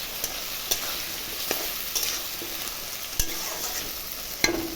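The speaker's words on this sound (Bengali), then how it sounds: "পেঁয়াজটা ভাজা হোক।" Onions fry in a pan, a steady sizzle running throughout with occasional light clicks and scrapes of a utensil stirring, close and alone without talking.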